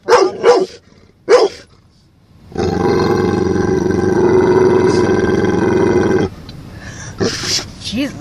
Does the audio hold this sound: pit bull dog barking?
yes